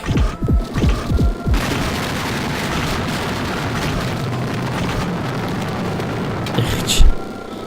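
A video game boss's heart is destroyed in a string of heavy explosions, opening with several rapid booming blasts, then a dense continuous roar of crashing detonations with a final loud burst near the end.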